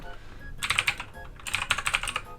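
Fingers type on a computer keyboard at a desk in two quick bursts of crisp keystrokes separated by a brief lull. The clicks are close and fairly quiet over a soft background.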